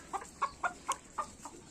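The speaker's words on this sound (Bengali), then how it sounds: "খুব চঞ্চল এই মুরগিগুলো" Farm laying hens clucking nearby, six or seven short, evenly spaced clucks in quick succession, fairly quiet with no talking.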